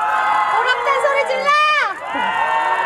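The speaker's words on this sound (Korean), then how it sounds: "보나 팬들 소리 질러" K-pop fans at a mini fan meeting during a TV music show scream and cheer loudly in high, sustained voices, rising to a peak and then dipping briefly before resuming.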